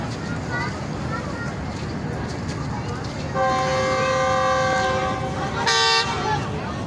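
A passenger train, the Jaffar Express, at a Pakistani railway station, heard as a steady rumble with a prolonged horn toot midway and a brighter blast near the end, under station noise and voices.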